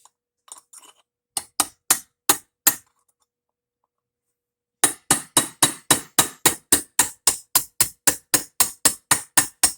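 Hammer blows drive out a clutch part on a 1999 Yamaha V-Max 500 SX snowmobile. A few sharp metallic strikes come first, then a pause, then a long fast run of steady, ringing hits close by.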